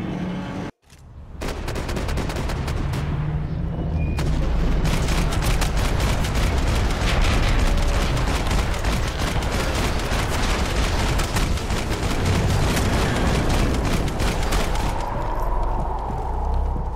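Dense, sustained gunfire from a Max Payne 3 shootout, with rapid overlapping shots and bursts that fill nearly the whole stretch at high loudness after a brief gap near the start.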